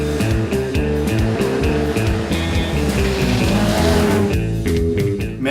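Rally cars race through a hairpin bend at a gravel rally near George and Knysna, South Africa, engines revving hard and loud with shifting pitch, tyre scrabble, and horns sounding.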